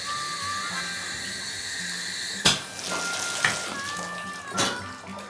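A shower runs into a bathtub with the drain stopper in during a home inspection, giving a steady close hiss of falling water broken by a few sharp knocks and splashes.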